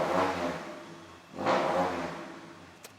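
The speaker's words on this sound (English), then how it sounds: "So if you watch this as I rev it" A car blowing blue smoke from burning oil is revved twice, each rev a broad rising engine roar that swells and fades, with a short sharp sound at the end.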